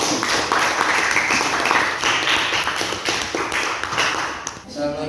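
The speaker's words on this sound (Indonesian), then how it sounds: "Oke, berikan aplaus ya." A class applauds after a group presentation on volcanism, with steady dense clapping from many hands in a room for several seconds before it tapers off at the end.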